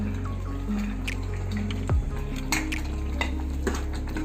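Paneer pieces and onion tipped into a pan of thick gravy, a clattering pot knock followed by soft wet squishing and stirring, close and fairly quiet.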